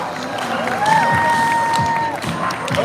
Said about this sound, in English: Everybody clap your hands, come on.